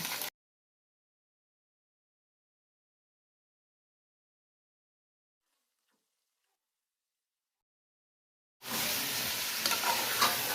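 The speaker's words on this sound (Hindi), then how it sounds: "मटन को अच्छे से हिलाते रहना है ताकि इसका पानी जो है ना वो खुश्क हो जाए अच्छे से।" Long silence gives way to a loud, steady sizzle of mutton frying in a pot, with scraping from stirring.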